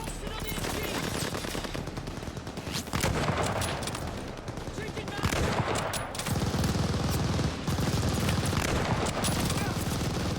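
Machine gun fire in the video game Call of Duty: Vanguard rattles on continuously for about ten seconds, loud and dense, with heavier bursts layered over a steady battlefield din.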